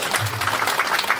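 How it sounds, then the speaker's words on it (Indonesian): Brief burst of audience clapping at a Balinese cremation ceremony, a busy patter of hands, fairly close and steady over a moment. "Tepuk tangan dulu."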